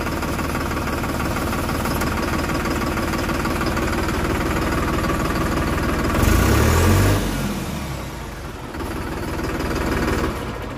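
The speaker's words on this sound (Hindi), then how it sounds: "स्टार्टिंग बहुत ज़बरदस्त है, बहुत कम आरपीएम पे ही सेल्फ के ट्रैक्टर स्टार्ट हो जाता है।" An American tractor's diesel engine, started with its self-starter at very low rpm, rumbles at a steady knocking idle, swells briefly at the start-up and then settles back to idling, loud and close.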